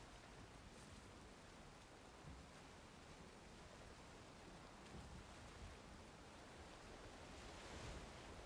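Ocean waves roll and wash steadily in the Valheim video game, a constant soft surf hiss heard alone with gentle swells rising and falling.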